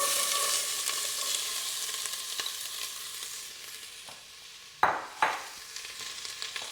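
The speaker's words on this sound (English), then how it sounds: "We're gonna saute the onion." Chopped onion sautéing in a pan for turkey chili: a soft, steady sizzle that fades slightly, then a couple of sharp clatters from stirring near the end, with no voices.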